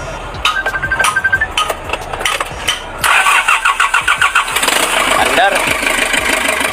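A Hyundai Porter2 with a D4CB CRDi diesel engine and a fuel rail pressure fault cranks over with a rapid, pulsing starter rhythm, briefly catches, and runs rough, while people talk nearby.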